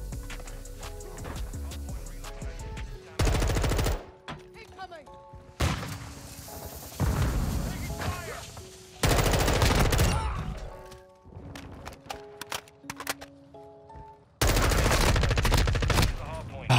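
Bursts of automatic gunfire and single shots from the video game Modern Warfare 2 come in loud, clustered volleys separated by short quiet gaps.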